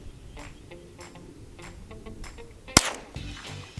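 A single sharp shot from a Marlin Model 60 rifle cracks out near the end, a loud close report that rings briefly over a quiet outdoor background with faint ticking.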